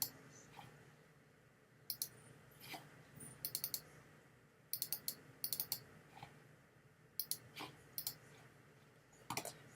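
A computer mouse clicks in short clusters of sharp, faint taps spread over a quiet room background, with several quick double and triple clicks.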